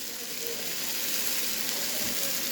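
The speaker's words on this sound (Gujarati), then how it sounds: "આ બધું તમારે 1-2 મિનિટ માટે સાતળી લેવાનું છે।" Tomato and green chili chutney sautés in a pan with a dense, even sizzle that holds steady for a couple of seconds, close and fairly loud, with no talking over it.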